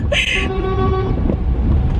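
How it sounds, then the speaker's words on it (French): A short car horn toot in the distance, brief and tonal, over constant wind and traffic rumble. "J'aime pas les gens qui klaxonnent, ça me fait stresser."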